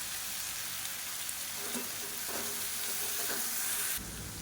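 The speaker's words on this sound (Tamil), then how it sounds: "உருளைக்கிழங்கு கொஞ்சம் ஓரளவுக்கு நல்லா கிறிஸ்பியாக வந்துடுச்சு." Potato pieces fry crisp in a pan with a steady, soft sizzle and hiss, faint and close, with occasional light stirring scrapes and no talk over it.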